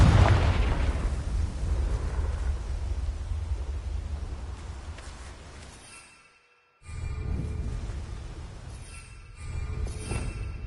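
A Confringo blasting spell explodes in Hogwarts Legacy on PS5: a loud, roaring blast that rumbles and slowly fades, breaks off into brief silence, then gives way to more heavy rumbling.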